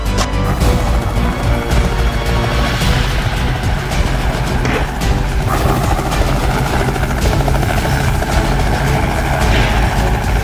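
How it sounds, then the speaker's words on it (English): Helicopter flying low during a feral pig hunt over Texas terrain, a loud continuous rotor thrum and engine roar that stays steady and close throughout, with no talk. "But hunting feral pigs by helicopter is the most optimal way."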